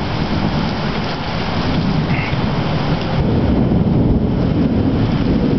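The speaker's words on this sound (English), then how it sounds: "Is it hailing or is this just rain? But it's coming down." Heavy rain pours down in a summer thunderstorm, a loud, steady hiss and patter of drops on surfaces with deep rumbling underneath, continuous and close with no talking.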